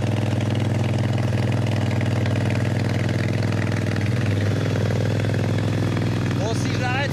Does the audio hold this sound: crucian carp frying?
no